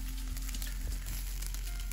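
Crushed caraway seeds, salt and pepper are cooking in a pan, making a steady, close sizzle of frying that runs evenly with no voices over it.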